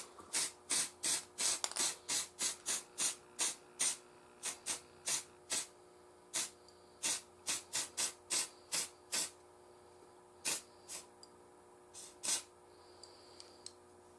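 Clear coat sprays onto a handmade fishing lure in about two dozen short, sharp hissing bursts from an aerosol can, close and fairly quiet, fast at first and then with longer gaps.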